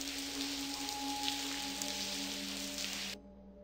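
Rain pattering on a window ledge in the video game Blackwell Convergence, a steady, close hiss of droplets under a soft tonal hum, cutting off sharply near the end.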